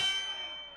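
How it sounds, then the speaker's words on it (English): A single wrestling-match bell strike rings out clearly, its bright metallic tone slowly decaying over less than a second. "Somebody ring the bell."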